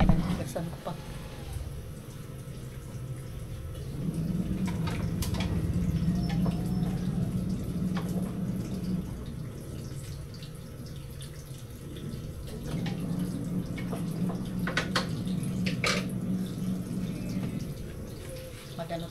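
Tap water runs into a sink while a pile of dishes is washed, a continuous splashing flow that swells and eases in two long stretches, with clinks and knocks of crockery close by.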